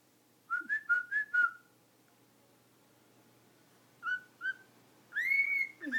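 Pet bird AJ whistles a quick run of four bright rising notes, pauses, then gives two short chirps and a longer swooping whistle, close and clear in a quiet room.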